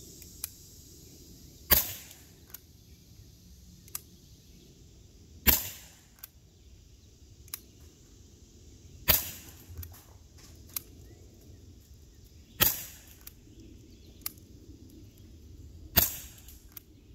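Five sharp shots from a Gamo P-430 air pistol firing 4.32 grain Winchester pellets, spaced about three to four seconds apart, each a crisp snap with a short tail, over quiet low background hum and a few faint clicks between.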